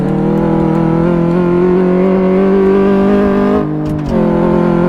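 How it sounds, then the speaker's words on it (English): A steady, loud engine drone from a car in Car Mechanic Simulator running a test-track suspension check over a series of bumps, holding a constant pitch, then briefly dipping near the end before resuming. "Suspension test, which is driving over a load of bumps."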